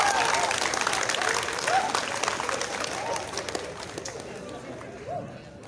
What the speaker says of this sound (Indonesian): Tepuk tangan untuk para pesertanya.